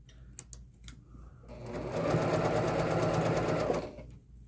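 Sewing machine stitching mesh pocket fabric for a messenger bag, with a short stitch length: a steady, close whirring run of about two seconds that starts after a few faint clicks and stops abruptly near the end.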